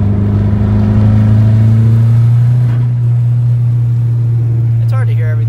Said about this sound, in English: I have a Cobalt SS, big turbo Cobalt SS pulls.